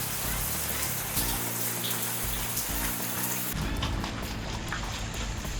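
Rain at a beach resort on Kudle beach, Gokarna: a steady, dense hiss of falling rain on surfaces, loud and close throughout with a low rumbling undertone.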